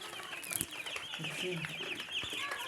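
Broiler chicks cheep constantly, a dense flock of high, overlapping peeps filling the whole stretch at steady loudness, with a few louder chirps standing out.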